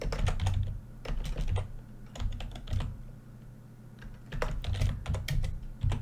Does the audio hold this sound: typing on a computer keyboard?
yes